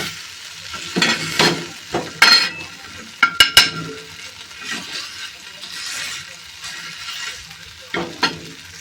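Cooked small tender brinjal being mashed in a pan, intermittent scraping and squelching strokes with sharp clinks of a utensil against the metal, close and uneven in rhythm.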